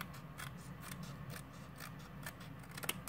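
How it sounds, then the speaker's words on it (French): Scissors snip off the overhanging excess from a glued paper Christmas tree craft, with several short crisp cuts in irregular rhythm, close and fairly quiet. "je vais lui découper tout ce qui dépasse"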